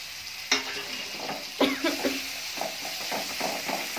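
A ground paste of ginger, garlic, green chili and cumin frying with tomato in a pan, giving a continuous sizzle broken by sharp stirring scrapes and clinks, close and without talk.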